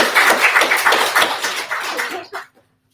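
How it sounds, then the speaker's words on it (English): Audience applause at a Foothill Arts + Lectures event welcoming Ursula Jones: dense, steady clapping that fills the room for about two seconds, then tapers off abruptly into near silence. "let's give a round of applause for Ursula Jones"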